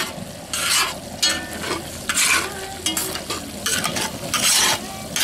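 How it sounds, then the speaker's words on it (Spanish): Beef tripe frying in oil on a disco pan, stirred steadily: bright, crackling sizzle rising in repeated scraping surges as the pieces are turned, close and fairly loud, with no voices. "Hay que no dejarle de menear porque se pegan."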